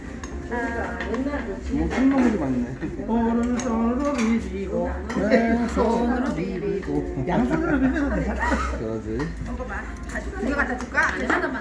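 Dishes and side plates clatter and clink at a shared restaurant table during a meal, steady and close, mixed with lively chatter and laughter throughout.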